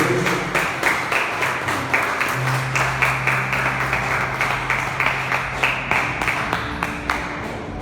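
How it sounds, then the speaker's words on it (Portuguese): A church congregation claps together in a steady, rhythmic beat, a dense run of sharp hand claps lasting the whole stretch, fairly close and without talk. "Aplausos a Deus bem forte"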